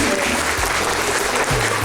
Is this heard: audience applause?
yes